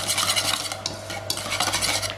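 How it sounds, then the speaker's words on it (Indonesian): A balloon whisk beats a sugar mixture in a bowl, producing a steady, fast scraping swish with quick rhythmic strokes, close and fairly loud with no talking. "Kemudian akan saya kocok menggunakan balon wax yang bersih dan tidak terkena minyak atau air."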